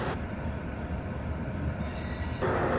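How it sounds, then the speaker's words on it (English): CSX grain train pulling in at night off a branch line: a steady, continuous rumble of rail cars rolling past close by, with a brief bump in loudness near the end and no talking. "this train's coming out of the branch line, so he's just now pulling in"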